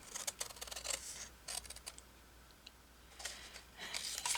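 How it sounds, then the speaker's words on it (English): Scissors snip across paper in several short bursts of crisp, close cutting with brief pauses between them, fairly quiet throughout. "I swear my scissors are not going to even work themselves across there."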